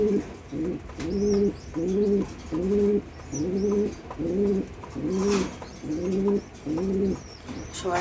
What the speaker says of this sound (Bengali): হাই ফ্লায়ার কবুতর